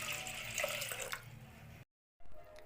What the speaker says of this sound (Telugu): ఇప్పుడు ఈ లోటా నీళ్ళు దీంట్లో పోసేసుకుందాం